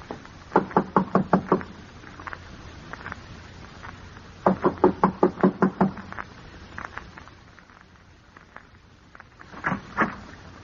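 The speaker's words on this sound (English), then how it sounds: "I'm going to knock on the door now" Knuckles rapping on a door, three quick bursts of sharp knocks repeated across several seconds, close and clear with no voices.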